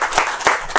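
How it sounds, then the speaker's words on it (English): A short burst of applause for panelists at a film event, dense clapping from a crowd, loud and close. "And a round of applause for the panelists."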